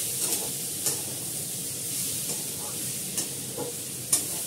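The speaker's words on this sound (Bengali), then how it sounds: "তেলটা তেতে গেছে, তরকারিটা ছড়িয়ে মাঝখানে একটু তেল দিয়ে দিচ্ছি" Curry fries in hot oil in a pan, a dense, even sizzle and hiss with occasional soft clicks and taps from stirring, close and steady throughout without speech.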